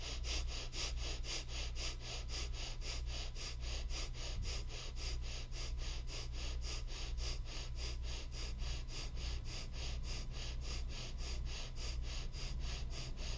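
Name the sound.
breath of fire, bellows breathing exercise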